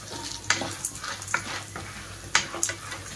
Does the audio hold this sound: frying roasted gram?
yes